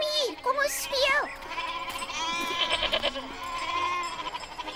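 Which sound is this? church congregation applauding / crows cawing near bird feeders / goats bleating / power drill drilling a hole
goats bleating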